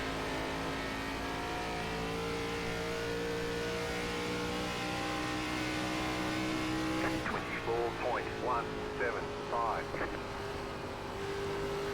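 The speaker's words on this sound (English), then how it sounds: "Can hear it in the engine tone through the center of the corner." A race car engine in the iRacing game, running an ARCA Series race at Rockingham Speedway: a steady, high, buzzing drone through a corner that rises and wavers in pitch near the end, with a voice talking over it.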